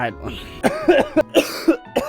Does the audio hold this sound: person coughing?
yes